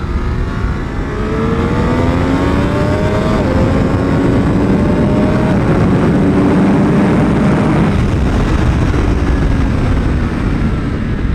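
Triumph Daytona 765 Moto2 motorcycle engine loud and close on a race track, holding a steady roar with rising and falling pitch sweeps as it accelerates through gears, alone with no talk.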